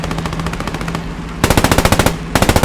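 Machine gun fire in the tank combat game Post Scriptum: rapid steady bursts of loud automatic shots, a long string of rounds, a brief pause, then another intense burst with a sharper, closer report.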